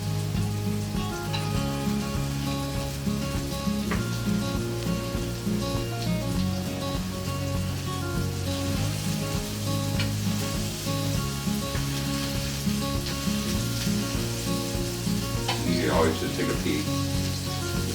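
Beef hamburger patties with egg in the mix sear in a hot pan, a continuous dense sizzle with crackling pops throughout, steady and fairly close, with faint background talk at a cooking demo.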